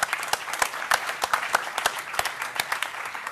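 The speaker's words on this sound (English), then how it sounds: "we should just give you all a big round of applause" An audience at a Debian developers' conference talk claps in a brief round of applause, with sharp distinct hand claps, moderately loud.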